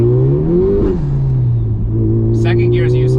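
A Honda Civic Type R FK8 accelerates hard through the gears, the engine tone climbing, dropping at a shift and rising again, loud and close from inside the car, with voices talking over it near the end.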